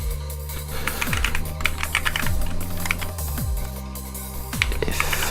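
Rapid keystrokes on a computer keyboard, tapped in quick irregular bursts at close range, with a steady electronic music loop with repeating descending tones underneath during a retro SuperCollider live-coding session.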